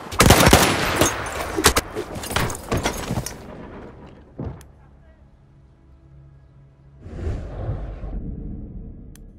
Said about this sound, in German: Ein Maschinengewehr!